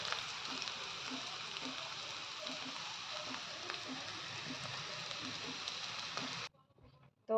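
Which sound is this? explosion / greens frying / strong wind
greens frying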